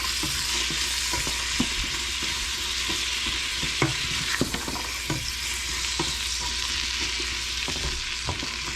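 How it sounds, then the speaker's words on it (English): Celery being stirred as it fries in a soup pot for potato soup, with a steady sizzle underneath and repeated clinks and scrapes of the spoon against the pot, close and fairly loud with no talking. "Go ahead and drop your celery in there. Give it a good stir around."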